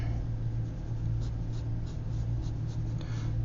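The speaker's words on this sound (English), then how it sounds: "Again, just quick sketching," A pencil makes quick sketching strokes on paper while an action pose is drawn, giving soft, continuous scratchy scraping with faint repeated stroke bursts over a low steady hum, close and quiet.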